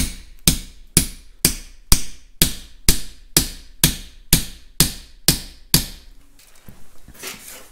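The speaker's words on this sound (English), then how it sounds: "I take a 3/8 bolt that I'm not particularly attached to use as a driver, so I'm beating up the end of the bolt and not the end of the tube" A hammer beats on the end of a 3/8 bolt used as a driver to push a dipstick tube on a Caterpillar D2 back into place: twelve sharp metallic strikes at an even, brisk rhythm, then a short quiet shuffle.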